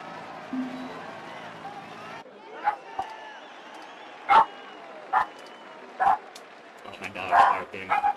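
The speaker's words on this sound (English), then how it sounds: "Oh, my dog's barking." A pet dog barking at home, several sharp separate barks spaced a second or so apart, mid-distance and moderately loud, following a voice and a steady background hum.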